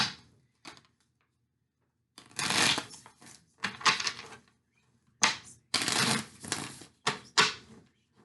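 Tarot cards shuffled in several separate bursts of riffling and crisp flapping, close and fairly loud, with short silent pauses between handfuls and no talk.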